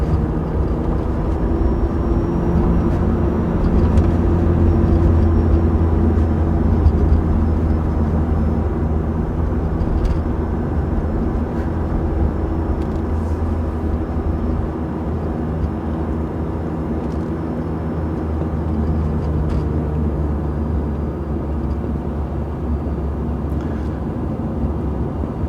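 Techno Violet BMW E36 M3 driving through turns at sunset, its engine and exhaust giving a steady, bassy rumble with a continuous low drone throughout, close and fairly loud with no talking.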